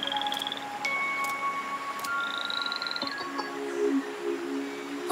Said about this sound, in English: It's another poison dart frog.